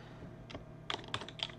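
Someone types on a computer keyboard, with a few quiet, close key clicks spaced unevenly over a soft background hum.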